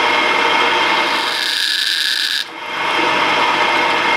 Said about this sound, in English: And we carefully first drill a small hole.